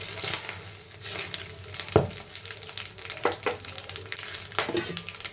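Whole spices (cumin, bay leaf, black cardamom, star anise, cinnamon and cloves) sizzle in hot oil in a pressure cooker for Bengali-style mutton. The frying is a steady, close crackle with a few sharper pops and stirring scrapes.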